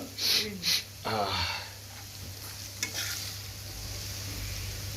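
Chicken fries and sizzles in a pan while a spoon stirs it, giving scraping sounds up close. A voice is briefly heard near the start.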